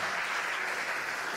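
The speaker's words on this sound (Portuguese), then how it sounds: "Uma salva de palmas para eles também." A crowd applauds the FEAP professors at a university gathering, with steady, dense clapping close by and no talk.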